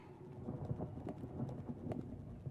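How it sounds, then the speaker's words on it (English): Thunder rumbling in the video game Resident Evil Zero, a low continuous roll with faint rain-like patter, fairly quiet and steady throughout with no talking. "Oh, it's thundering."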